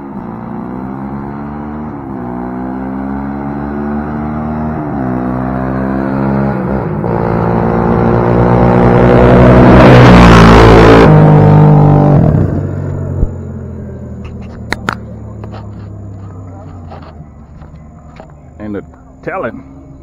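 Side-by-side UTVs, among them a Honda, race along a dirt road, their engines swelling to a loud roaring pass near the middle and then fading off; a voice talks over the engines and a few sharp knocks follow.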